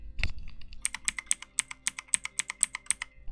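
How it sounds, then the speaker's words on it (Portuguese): Crisp, loud clicks of a cheap Temu mechanical keyboard with blue switches, typed in a fast, steady rhythm, each keystroke sharp and close. "Isto é Switch Blue, portanto vocês conhecem o barulho do Blue"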